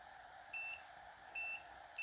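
An automatic mosque sound system controller signals prayer time with three short electronic beeps, evenly spaced about a second apart, clear and alone over a faint steady hum.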